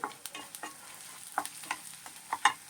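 Chopped onion and green chillies fry in a pan for a Godavari pulasa fish curry, giving a soft sizzle broken by scattered sharp crackles and spoon-stirring clicks, close by and without speech.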